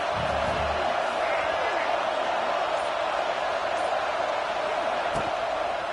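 Steady stadium crowd roar at a UCLA football game, a broad continuous wash of noise that holds at an even level throughout, with a faint thump near the end.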